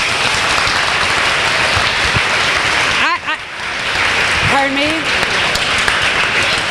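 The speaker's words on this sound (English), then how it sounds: "a big round of applause" Dense, sustained applause from a crowd fills the clip, with a voice briefly speaking over it partway through.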